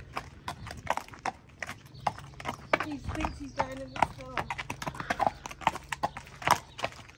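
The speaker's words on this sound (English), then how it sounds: "So we've just brought the horses in the stables." Horses' hooves clip-clop steadily on a hard yard surface as they are led into the stables, close and fairly loud, with a horse snorting and a person talking over the hoofbeats.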